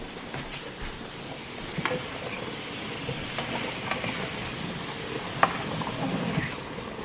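Jerk shrimp fry in a pan with a steady, soft sizzle, broken now and then by sharp little pops and a few faint clinks.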